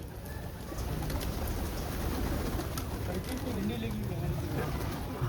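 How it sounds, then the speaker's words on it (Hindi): Pigeons cooing softly and repeatedly in the background, under a steady wash of outdoor noise and faint voices. "दो कबूतर फंसाए हैं, कबूतर मर्दी में बैठ जाते ना।"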